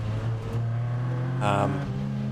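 A Class B BMW race car comes through during a roadsports race at Anglesey circuit. Its engine surges briefly and loudly about two-thirds of the way in, over the steady low drone of a nearby race car engine.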